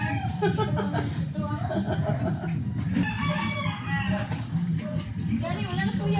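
Backyard chickens cluck continuously close by while a rooster crows, and a person talks over the poultry throughout.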